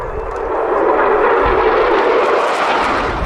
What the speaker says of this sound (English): The Typhoon really is one of the top combat aircraft of the world.